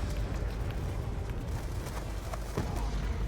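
Rapid, dense booming blasts and crackling bursts of shell explosions in a Call of Duty: Black Ops 2 battle, several heavy explosions overlapping in a loud continuous barrage.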